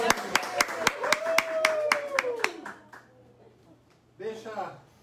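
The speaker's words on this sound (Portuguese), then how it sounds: "Uma salva de palmas para as meninas" A small group claps sharply in a fast, even rhythm for a few seconds while a voice speaks over it, then the clapping thins out and stops, followed by a brief burst of speech.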